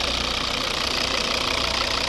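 A 2011 Volvo S40 with a two-litre five-cylinder D3 diesel engine idles up close, a steady, loud, slightly knocking drone with no voices over it.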